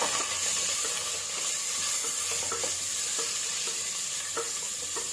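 Green chilies sautéed in a pan for vegetable pulao, a steady hissing sizzle with a high steam tone and light ticks of stirring, close and moderate in level, no talking.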